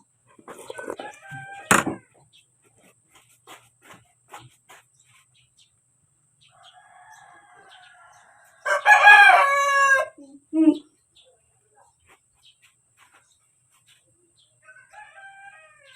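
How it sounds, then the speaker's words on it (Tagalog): A rooster lets out one loud, drawn-out crow over a quiet background with a few scattered clucks and small noises. "yung mga tilaok ng manok"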